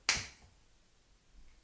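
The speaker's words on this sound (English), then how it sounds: "You just snap your fingers and the water turns into wine." A single sharp finger snap, close and crisp, followed by quiet.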